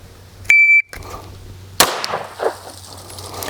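A shot timer at a shooting drill gives one sharp electronic beep, followed about a second later by a loud gunshot crack with echoing tail.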